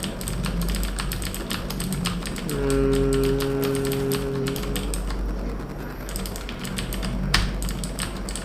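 Rapid, steady clacking of HyperX Alloy FPS Pro Cherry MX mechanical keyboard keys being pressed, close and continuous, over a low background hum with a brief tonal whine in the middle.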